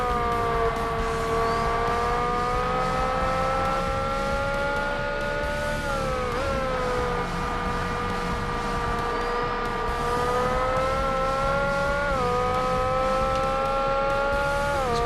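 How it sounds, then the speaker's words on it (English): A Class R-P1 race car in the video game Forza Motorsport accelerates hard, its loud, high engine whine climbing in pitch and dropping sharply at two gear shifts, with no talking. "This thing just accelerates so much quicker in 6th gear compared to 5th."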